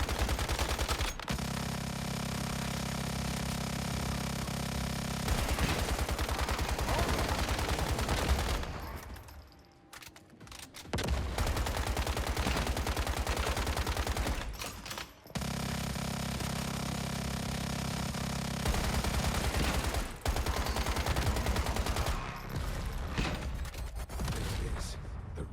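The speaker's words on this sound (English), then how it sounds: "He had a massive Gatling gun" Gatling gun fire from a mini boss in the survival shooter Once Human, a dense continuous rattle of rapid shots that runs loud for several seconds, breaks off briefly twice, then resumes.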